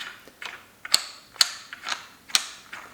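An Omanik Quantum embroidery frame squeaks and clicks as its tension is eased off, giving a run of close, sharp creaks and ratchet-like ticks in an uneven rhythm, with no talking.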